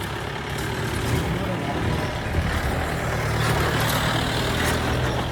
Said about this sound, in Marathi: पाठून खूप मोठी गाडी येत आहे एका साईडला